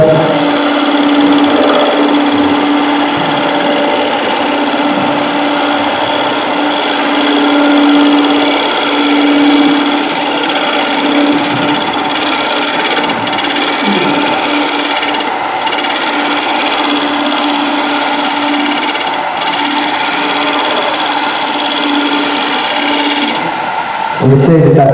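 Wood lathe spinning a workpiece while a chisel cuts, held at the hip at 45 degrees at a wood turners' meeting; a steady loud whirring hum with scraping texture runs throughout, with a voice talking over it.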